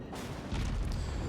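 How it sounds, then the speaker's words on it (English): Naval guns fire in the World of Warships video game, with a fairly faint, brief booming salvo arriving midway through and low rumbling before and after it. "Now finally getting a couple more shots in"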